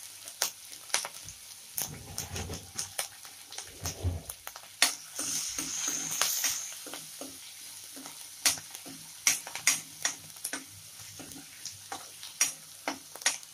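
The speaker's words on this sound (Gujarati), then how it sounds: "જીરું તતડે એટલે લીલા મરચાં એડ કરીશું" Cumin seeds and green chilies fry in hot oil with mustard seeds, giving sharp popping crackles in an irregular run over a soft sizzle, with a burst of scraping stirs partway through.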